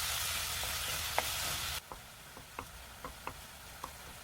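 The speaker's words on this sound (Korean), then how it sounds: "이렇게 팬에다가 기름 없이 먼저 다진 두부를 잘 볶아주세요" Minced tofu stir-fried in a dry pan with no oil, a faint crackle and hiss broken by a series of light taps and scrapes from the spatula, quiet and close with no voices.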